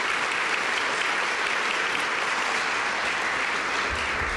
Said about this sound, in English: I think we owe you a round of applause for all you've done